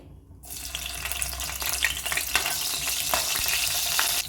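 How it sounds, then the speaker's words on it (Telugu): Green chilies dropped into hot oil burst into a loud, dense sizzle after a brief silence, then crackle and spit steadily up close, with occasional stirring clinks and no voices. "ఆయిల్ వేడెక్కింది కదండి పచ్చిమిర్చి వేసుకోవాలి"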